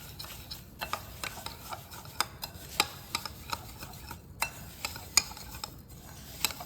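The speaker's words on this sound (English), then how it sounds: "what we're gonna add to that melted butter is some panko crumbs" Panko crumbs mixed into melted butter, half a stick, in a bowl: a steady gritty rubbing with repeated sharp clicks and scrapes of the utensil at an irregular pace, close and fairly quiet.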